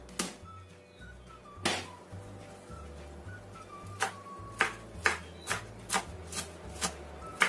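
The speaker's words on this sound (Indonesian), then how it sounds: "aku gunakan 3 siung bawang putih. Ini kita cincang kasar." Three garlic cloves coarsely chopped with a knife on a board, a series of sharp, close taps that start sparse and quicken into a fairly regular rhythm, with a low hum underneath.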